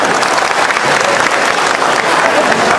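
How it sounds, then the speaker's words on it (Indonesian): Indoor audience clapping at a formal gathering, a dense steady roar of many hands, loud and close, sustained throughout without pause. "Aplaus."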